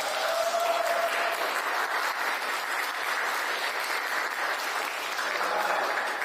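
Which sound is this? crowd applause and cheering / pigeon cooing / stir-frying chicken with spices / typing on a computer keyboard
crowd applause and cheering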